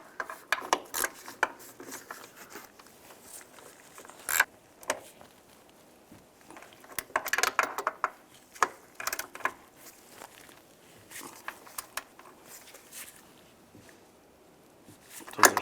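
Ratchet wrench tightening the front door hinge bolts on a 2007-2013 Chevrolet Silverado 1500, heard as close, irregular bursts of rapid clicking and metallic rubbing with brief pauses between strokes, no voices.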